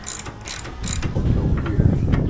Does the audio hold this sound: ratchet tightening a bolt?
yes